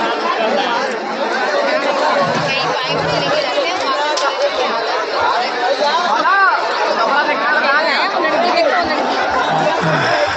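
Dense crowd chatter at a riverside bathing ghat in Kashi, a steady babble of many voices with no pause, close and loud throughout.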